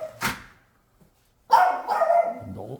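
A house dog at a rural country home barks nearby: one sharp bark, a brief pause, then a louder run of barks and yips trailing into a whimper, with no talk over it.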